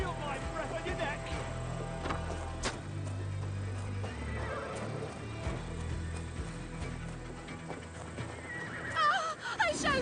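A horse in Assassin's Creed Valhalla whinnies amid clip-clopping hooves, moderately loud under a talking voice, with another shrill neigh near the end.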